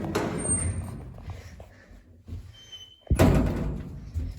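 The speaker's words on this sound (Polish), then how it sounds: "Drzwi zamykają się samoczynnie." Automatic elevator doors in an apartment block lift in Bytom, Poland slide shut with a low rumble and finish with a firm thud near the end.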